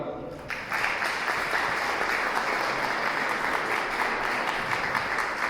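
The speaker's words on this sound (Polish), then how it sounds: "Wielkie brawa, jeszcze cudowne brawa." Sustained applause from an audience at a Women's Day celebration in Chełmsko Śląskie, Lubawka, steady and dense throughout after a brief quieter start.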